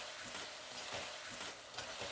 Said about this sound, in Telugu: ఇప్పుడు మసాలా వేసినాక కొంతసేపు వేయించుకోవాలండి.